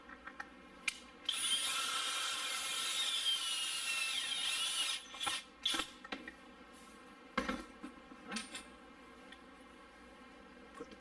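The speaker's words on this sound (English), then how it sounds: "Now I'm going to back out this screw." A screw is backed out on a garbage disposal plate, heard as a high whirring drive for a few seconds followed by several short metallic clicks and ratcheting bursts, fairly quiet and close.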